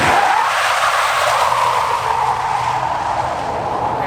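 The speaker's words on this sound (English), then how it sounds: "And burnout's done." A 2019 Hyundai Kona Electric compact SUV, traction control off, does a burnout, with loud sustained tire squeal and skidding screech that holds steady throughout with no talking.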